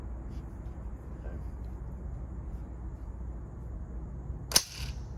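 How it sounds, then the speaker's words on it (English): A rifle bolt is shut on a round chambered for a brass weight-sorting test, giving one sharp metallic snap near the end after a long stretch of quiet room hum. "So I'm starting every one of them in the chamber and then shutting the bolt on it."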